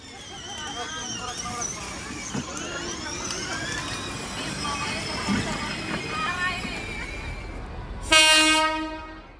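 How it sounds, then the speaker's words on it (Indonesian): A tourist train of wooden passenger carriages pulled by a D301 diesel locomotive rumbles and clatters steadily past with background chatter, then a loud, sustained locomotive horn blasts near the end. "Ditariknya pakai loko diesel D301"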